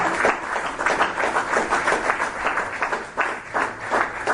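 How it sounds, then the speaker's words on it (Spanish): Church congregation clapping at a Christian radio program, a steady sustained wash of many hands with rhythmic pulses, fairly close and continuous throughout without clear voices. "Dale un aplauso grande"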